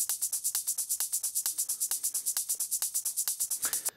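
Two layered shaker parts spread left and right in an electronic dance remix: a rapid, even stream of bright swishing ticks, steady and close, playing alone for several seconds before cutting off.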